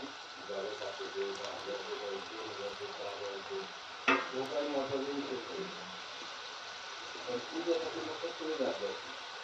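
Homemade Vidarbha-style sambar vadi frying in hot oil gives a faint, steady sizzle and crackle throughout, running quietly under someone speaking.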